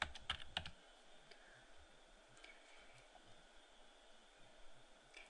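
Rapid clatter of computer keys being typed, a quick burst at the start then lighter scattered taps over a quiet background hum.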